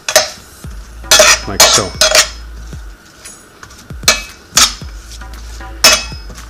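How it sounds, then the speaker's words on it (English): A metal spatula scrapes and clanks against a pan while tossing potatoes in oil, giving loud, irregular clinks and scrapes with short pauses between them, and a voice briefly speaks. "Use a metal spatula And you're going to be using the oil, and you're going to mix it around the potatoes"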